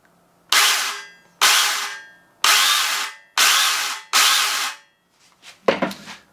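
A homemade grinder chainsaw, an angle grinder fitted with a chain, gets a test run as five short, loud, close bursts of high whining buzz that each spin down, followed by a few quieter clunks.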